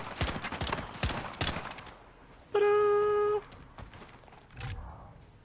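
Gunfire from a first-person shooter video game: scattered sharp shots and clatter, then a sustained electronic tone for about a second, followed by more shots, close and fairly loud.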